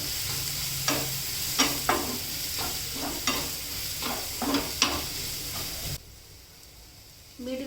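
Safflower greens are sautéed in a pan with butter, coriander powder and red chilli powder, a spatula striking and scraping in repeated close clicks over a frying hiss that suddenly drops away near the end.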